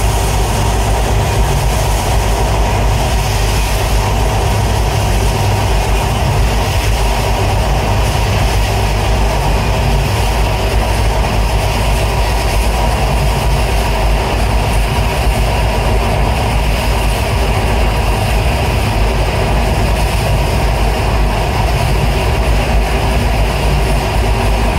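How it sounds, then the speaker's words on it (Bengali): A passenger train on the Kolkata–Dhaka route rumbles over an elevated flyover bridge, a loud, continuous, droning roar with steady rattling and no letup, heard from inside the carriage. "আমাদের ট্রেনটি সম্ভবত এখন উড়াল সেতুর উপর দিয়ে চলছে"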